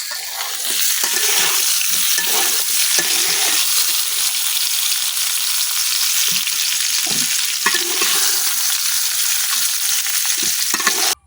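Eggplant and potato pieces fry in hot oil in a pan in a village kitchen. A loud, continuous sizzle is broken by intermittent scraping and stirring sounds.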